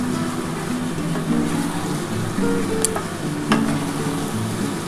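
Chicken being sautéed in a pan for a Bengali-style red chicken curry, with a steady close sizzle and hiss throughout. Soft scrapes and stirring clinks sound now and then.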